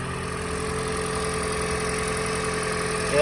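A Toyota Prius third-generation engine idles steadily after new spark plugs, a smooth even mid-pitched hum with faint vibration, heard close and alone, rising slightly at the very end.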